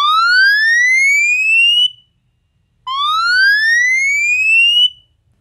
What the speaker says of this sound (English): we have got emergency alarm here. When you tap on this, it is going to ring like this.